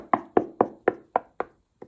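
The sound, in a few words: knocking on a wall to find hollow spots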